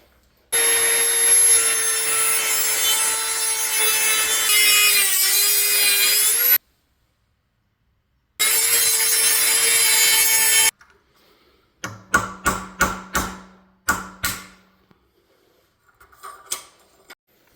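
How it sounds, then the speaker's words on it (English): A Dremel rotary tool cuts during a Nissan Frontier rear wheel bearing and axle seal job: two long, loud, steady high-pitched whining runs with a brief gap, followed by scattered scraping and clattering of parts being handled. "All right, I'm going to try this Dremel."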